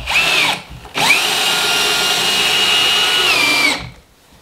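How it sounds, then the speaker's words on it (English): A power drill drives screws into a handmade window frame in an off-grid earthbag workshop: a short whirring burst, a brief pause, then a long steady loud whine that winds down to quiet. "just screwing this together now."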